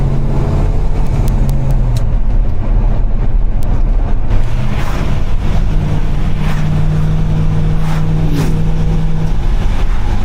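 A 1972 Chevy Monte Carlo cruising down the street, its exhaust a loud, steady low burble with gear-shift pitch changes and a few gentle swells, heard up close without talk.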